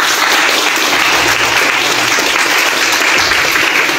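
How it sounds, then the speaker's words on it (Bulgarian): Loud, dense audience applause at a health lecture festival in Haskovo, continuous clapping from a large crowd welcoming a speaker, steady and unbroken throughout. "Искам да го посрещам с аплодисменти."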